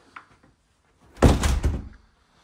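A composite front door closes with one solid, heavy thud and a brief rattle, close by and loud, with quiet before and after.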